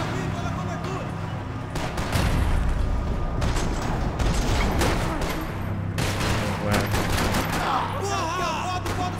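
Gunfire in the video game Max Payne 3, several bursts of rapid shots and mechanical clatter mixed with game effects over a steady background, loud and dense through most of the stretch.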